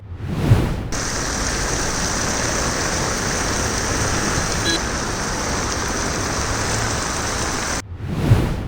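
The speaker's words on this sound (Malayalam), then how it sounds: "കേരളത്തിൽ പരക്കെ മഴ താഴ്ന്ന ഭാഗങ്ങൾ വെള്ളത്തിനടിയിലേക്ക്" Steady, dense rain pours down continuously in Kerala, a broad even hiss that fades in and cuts off abruptly at the end, with no voices.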